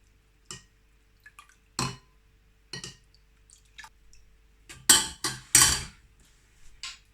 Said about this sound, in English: So I've got a bowl of cold water here, and I'm gonna add my tapioca pearls